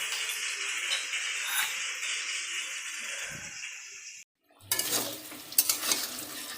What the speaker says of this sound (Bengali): আমার আলু ভাজা হয়ে গেছে।